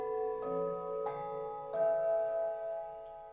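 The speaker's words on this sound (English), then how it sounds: "These are called blossom bells." Three bright metallic strikes on blossom bells made by Pete Engelhardt, about half a second apart, each ringing on with sustained overtones and slowly decaying; quiet and close, no voices.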